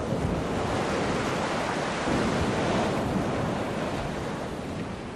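Ocean surf crashing against rocky shoreline boulders along a Taiwanese coast, a steady loud roar of breaking waves with wind noise, continuous throughout and swelling slightly midway before easing at the end.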